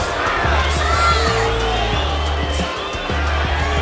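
Dense crowd roar and cheering from fans at a boxing arena during a pro bout, a steady loud wash of voices with whoops and shouts rising throughout.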